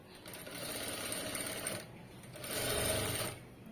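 A sewing machine runs in two close, steady bursts with a short pause between them while stitching thread piping, its rapid mechanical whir continuous and loud.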